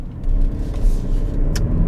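A 2022 Kia Stinger GT-Line with the 2.5-liter engine and 8-speed automatic pulls hard, a steady low engine rumble and road noise filling the cabin throughout, with no talk.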